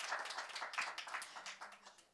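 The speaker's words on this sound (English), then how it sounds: "Let's give him a huge round of applause." Summit panel audience clapping for the session moderator, a fairly quiet, close patter of individual hand claps in loose rhythm that thins out over a couple of seconds.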